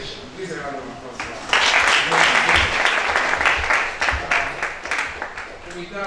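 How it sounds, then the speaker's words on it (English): Audience applause at a critical care medicine training session swells suddenly after a moment of talk, then continues in a dense, uneven wave of clapping with voices mixed underneath. "Please, a round of applause."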